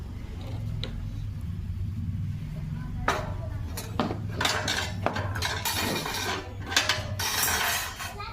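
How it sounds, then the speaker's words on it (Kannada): A metal tawa griddle set down on a stove in a home kitchen, giving a few clanks and knocks over a steady low fire hum, with faint clatter of other pans. "ಇವಾಗ ತವ ಇಡ್ತಾಯಿದ್ದೀನಿ."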